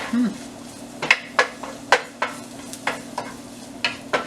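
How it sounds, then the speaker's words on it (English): Garlic browning in a hot skillet while coconut shrimp is being cooked, a steady low sizzle punctuated by repeated close stirring and scraping strokes, about a dozen sharp hits at an irregular beat, with no voice. "I will wait a little bit brown my garlic, just a little bit."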